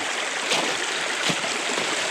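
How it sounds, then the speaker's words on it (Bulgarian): River water rushes steadily around someone wading across a rocky stream in Lyulin Mountain, a close, continuous broadband gush with a couple of brief splashes from footsteps. "Което ще рече, че аз в момента ми преминавам през река"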